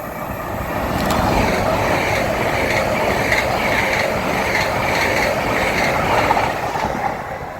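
An LNER Class 801 train running from Bradford Foster Square to London King's Cross at Grantham station gives a steady, loud rumble with faint rhythmic clicking, sustained throughout without voices.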